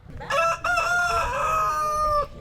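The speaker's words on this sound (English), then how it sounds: "He forgot to mention a few rowdy roosters, too." A single loud rooster crow rings out close by, a strained, drawn-out call lasting about two seconds.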